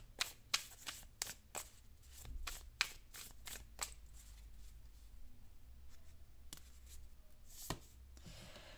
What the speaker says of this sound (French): je vais vous tirer une carte synthèse avec l'oracle de la